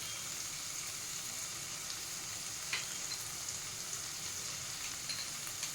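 Curry base of cumin and coriander powder, chopped green chili, Kashmiri chili powder, turmeric and salt for a fish roe curry, sizzling in hot oil: a steady, close frying hiss with faint crackles throughout and no talking.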